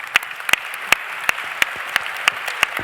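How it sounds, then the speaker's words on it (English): Sparse clapping from a panel audience applauding women in the room, a handful of distinct, fairly sharp claps spaced out irregularly over a quiet background, no voices. "Can we applaud these women?"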